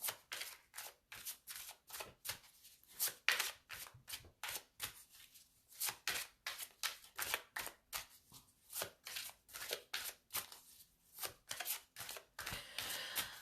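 Playing cards shuffled and riffled again and again during a zodiac tarot-style reading, a steady run of crisp, close flutters and snaps with short pauses between, no talking.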